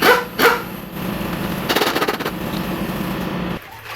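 A tool rattles in rapid bursts while loosening 12 mm air-conditioning compressor bolts on a 2004-2009 Mazda3 2.3L, a loud close chatter with clicks in short runs before it cuts off.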